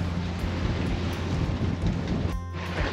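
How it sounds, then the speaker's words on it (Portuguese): Strong wind roars steadily into the microphone at a harbour quay, a dense, loud blustery rush with low buffeting and a brief dip near the end. "tá ventando pra caramba"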